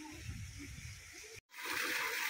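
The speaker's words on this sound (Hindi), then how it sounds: "वो देखो, वहाँ से पानी आ रहा है" Water flowing and splashing outdoors in Al Baha, a steady broadband rush with a brief cutout partway through, then resuming louder and brighter.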